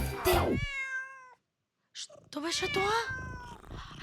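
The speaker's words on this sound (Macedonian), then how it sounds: "Мачето мјаука" A cat meows twice: a drawn-out, tonal cry, then a short break and a second wavering meow overlapping a voice speaking.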